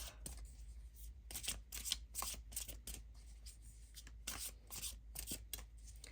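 Tarot cards being shuffled by hand, a steady run of papery riffles and slides repeating closely and clearly, with no talk over them.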